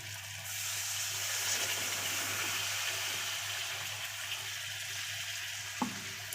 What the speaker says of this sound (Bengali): এবার এর মধ্যে আমরা পরিমাণ মতো জল দিয়ে দিচ্ছি